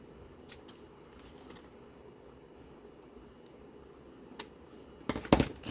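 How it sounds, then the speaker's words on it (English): Scissors make a couple of quick, close snips through paper in a papercraft journaling session. The snips come near the end, after a long stretch of quiet room tone with a few faint ticks. "Give it a little snip snip."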